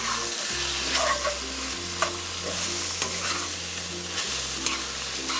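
Ginger, pepper and garlic being stir-fried in a pan, a loud steady sizzle with repeated scraping strokes of the utensil against the pan and a low hum running underneath.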